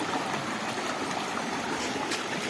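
A village river, swollen after two days of rain, rushes along in a steady, close broadband roar with no break.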